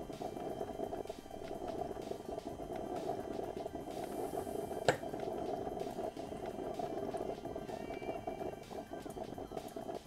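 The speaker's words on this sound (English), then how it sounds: "And that coffee maker's loud" A coffee maker in the video game mod pack All the Mods gives off a steady bubbling, boiling hum with a faint rhythmic clatter, continuous and fairly loud, with one sharp click partway through.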